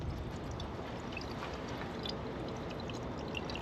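Coolant pours steadily in a continuous, splashing gush close by, with a broad noisy wash that holds for a few seconds without pause.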